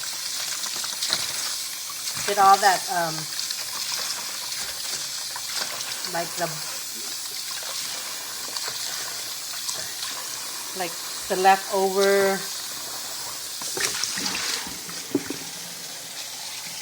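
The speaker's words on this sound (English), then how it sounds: "And I'm gonna rinse the meat that I took out from the broth." Warm tap water runs over meat taken out of a broth for Lao sukiyaki soup, a soft continuous splashing stream with someone speaking intermittently over it.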